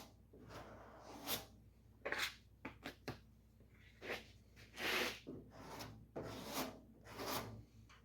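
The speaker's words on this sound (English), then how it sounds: "I'm using this air sander a lot more than I normally do" Repeated rasping strokes of an air sander against a 1956 Fargo truck door, coming in irregular bursts with short pauses between them, fairly quiet and close.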